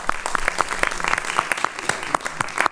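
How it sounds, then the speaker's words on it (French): A small audience at a library study day claps, the sharp individual hand claps distinct and spaced unevenly, close and fairly loud, with a voice briefly audible underneath. "On peut vous applaudir."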